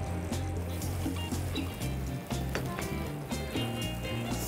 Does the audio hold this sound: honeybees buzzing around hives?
no